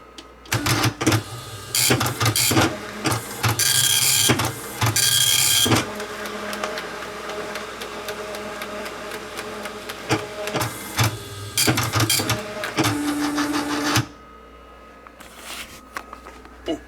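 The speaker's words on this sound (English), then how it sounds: "Okay, let's do our first print." A printer running its first test print, whirring and clattering in bursts with louder busy stretches and brief pauses, then trailing off into quieter mechanical sounds near the end; no talking.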